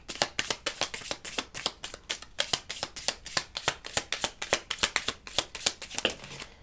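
Oracle cards being shuffled by hand, a steady run of close, crisp riffling slaps in quick rhythmic succession, continuing throughout without talk.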